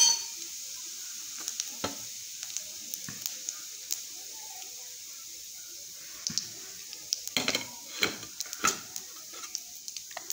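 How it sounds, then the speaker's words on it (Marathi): Cumin and mustard seeds dropped into hot oil in a pan, a faint steady sizzle broken by scattered sharp pops and crackles that grow busier toward the end. "मस्तपैकी तेल गरम झाले, जिरे मोहरी टाकून घेऊ"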